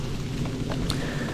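Heavy rain drums steadily on a tiny inflatable tent during a storm, a dense, close, continuous hiss and patter with a deep low rumble beneath it and no voices.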